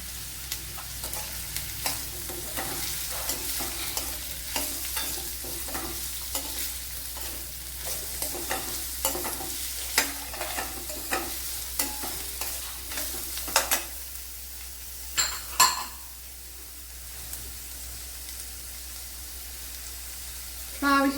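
Chopped medium-sized onion frying in a pan for a lentil curry, a steady close sizzle broken by repeated scraping stirs, with a few louder clanks near the end.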